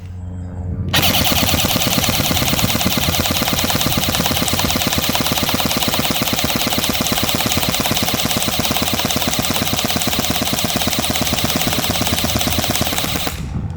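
A Barra 400E Gen 2 all-metal electric .177 BB machine gun fires full-auto in one long, unbroken burst of rapid, evenly spaced mechanical cracks, loud and close, lasting about twelve seconds after a brief quiet start.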